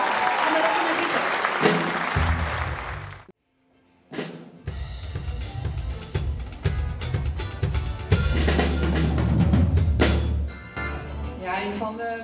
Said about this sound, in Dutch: Dames en heren, een heel groot applaus voor Iris Vreeling